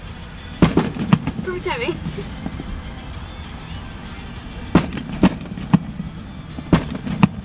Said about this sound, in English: These fireworks are sponsored by Walmart.